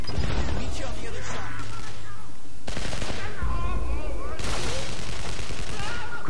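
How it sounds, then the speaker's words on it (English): Gunfire erupts in The Amazing Spider-Man video game, loud rapid bursts and crackling volleys in several waves with brief lulls between them, mixed with game effects and voices. "Could you please ask them to stop shooting at me?"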